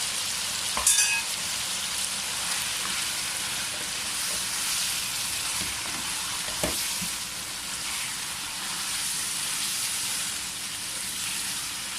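Yogurt fries in a pan while tawa chops are cooked Sialkot style, giving a steady, close sizzling hiss throughout with an occasional sharp crackle and stirring scrape.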